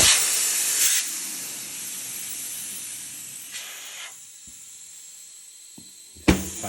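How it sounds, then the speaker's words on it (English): Air hisses steadily out of a bike tire's open valve stem after the valve core is pulled, a close, loud rush with a few sharp bursts that fades slightly and then flares again near the end. "this is going to let all the air out of the tire"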